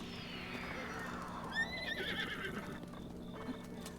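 A horse whinnies loudly, a rising then falling neigh, with quick clip-clop hoofbeats and a whooshing sweep in a game-like soundscape.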